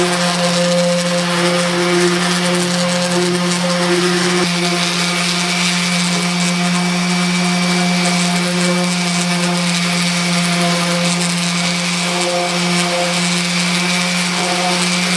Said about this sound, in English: make sure they're sanded smooth